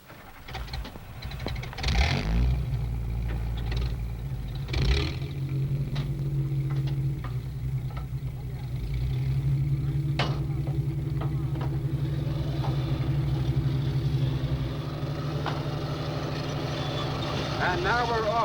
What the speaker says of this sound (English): The other personnel carriers move out with us.